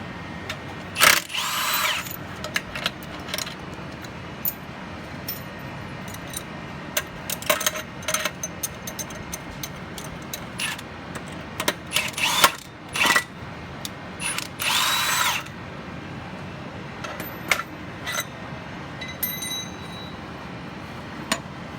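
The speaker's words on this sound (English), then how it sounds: "We're going to pull the bolt with our 21mm" A power tool with a 21mm socket pulls the primary clutch bolt on an XP Turbo clutch. It comes in several short, loud whirring bursts separated by quiet gaps and light mechanical clicks.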